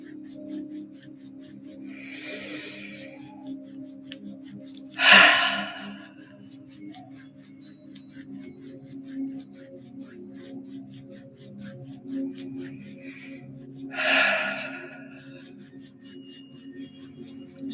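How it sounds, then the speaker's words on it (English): Slow, deep belly breaths during a guided meditation. Three soft, breathy inhales and exhales spaced several seconds apart sit over a low, steady hum. "Deep belly breaths here."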